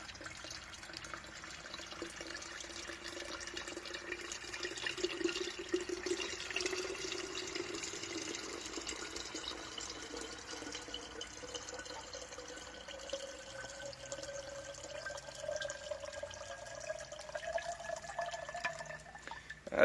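Lukewarm water pours steadily into a batch of elderberry wine, a faint continuous trickle and splash that rises in pitch as the vessel fills, alone without voices.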